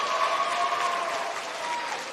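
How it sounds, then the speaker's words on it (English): Applause from an audience at a Lincoln's Challenge graduation ceremony, a steady wash of clapping from a large crowd, moderately distant and continuous throughout. "Clap it up for her."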